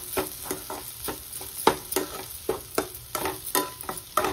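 Raw banana pieces being stir-fried in a pan, with a continuous sizzle under frequent sharp spatula scrapes and taps that come in a quick, uneven rhythm close by.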